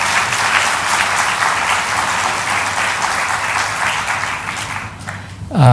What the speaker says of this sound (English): So a special round of applause for Professor Wang